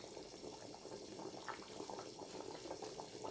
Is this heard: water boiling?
yes